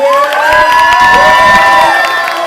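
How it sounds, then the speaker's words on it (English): Crowd at a drag show cheering loudly with whoops and high shouts in a packed venue, sustained and close throughout. "I want you to engulf me with your cheers and applause"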